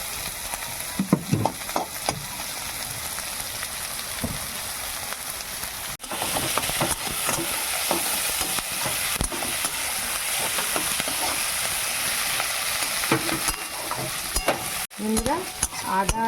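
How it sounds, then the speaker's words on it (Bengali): Ginger and garlic fry in a pan alongside capsicum and onion for a Bengali muri ghonto, giving a steady close sizzle with repeated scraping stirs throughout and no talking. "আদা রসুনটা একটু ভাজা ভাজা হয়ে গেছে"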